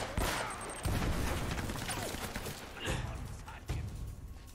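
Sustained covering gunfire in Uncharted: Drake's Fortune, a dense fusillade of shots with sharp bursts near 1, 3 and 3.7 seconds, loud and close amid game noise.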